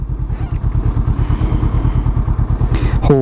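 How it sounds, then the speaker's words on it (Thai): A Honda CBR500R motorcycle with a slip-on exhaust and BMC air filter idles with a steady, soft, throbbing exhaust pulse, then briefly revs up near the end. "นี่เสียงสลิปออนนุ่มนิ่มอีกแล้ว CBR 500"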